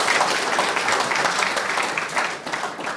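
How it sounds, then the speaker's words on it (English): A seminar audience gives a steady round of clapping for panelists after an energy storage discussion, dense and continuous throughout, easing slightly toward the end. "Let's give a big round of applause for our great panelists."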